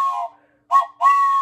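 A train whistle blown at home, giving two or three short, bright, steady tones, the first alone and the last two close together.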